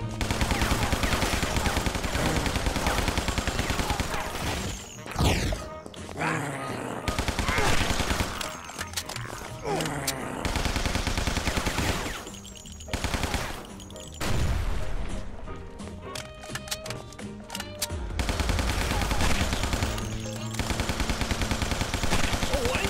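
Heavy automatic gunfire from a powerful weapon in Guns, Gore & Cannoli, long loud rattling bursts broken by short pauses and crashes, with occasional game voices.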